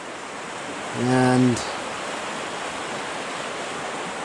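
The Blaeberry River rushes along the Great Divide Trail, a constant close wash of water. A person briefly speaks over it.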